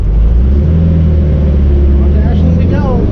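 A 1961 Volkswagen with a manual transmission drives along, its loud, steady low engine drone and road rumble continuous throughout, with a voice talking over it.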